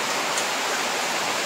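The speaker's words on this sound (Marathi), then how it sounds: "मग पाऊस बघा" Steady broadband rain falls in a monsoon setting in rural Maharashtra, a continuous even hiss of water on surfaces with no pauses and no talk.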